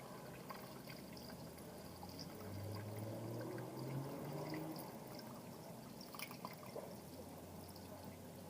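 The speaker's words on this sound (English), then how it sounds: "So while the paste is still hot, add your water." Water poured into hot, freshly cooked paste while making natural liquid soap: a faint, continuous trickle and pour that swells a little in the middle, with soft drips and no talking.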